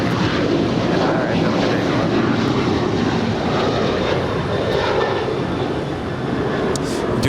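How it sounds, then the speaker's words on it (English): A United Airlines Boeing 787-10 Dreamliner jet departing LAX fills the air with a loud, continuous engine roar and rumble, powerful and close, sustained throughout with only a slight dip near the end. "Our next departure is United Airlines Flight 2614 heading to Newark. It's a 787-10 Dreamliner."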